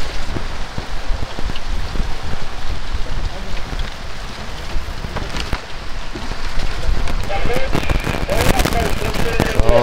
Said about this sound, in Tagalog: Maraming ulan.